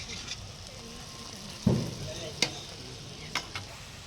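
Egg being stirred into cooked Maggi noodles in a pan, with a soft steady sizzle under a few sharp scraping clicks of the spoon against the pan, close and moderately quiet.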